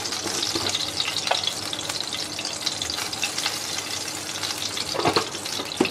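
Soyabean chunks frying in hot oil make a continuous, dense sizzle close up, with occasional louder crackles and stirring scrapes and no one talking.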